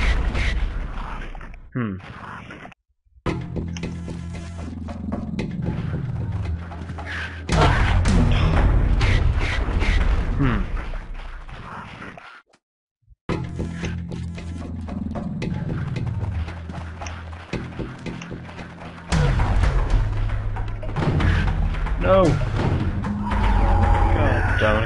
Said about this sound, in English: Keep pulling the lever as soon as you jump up there.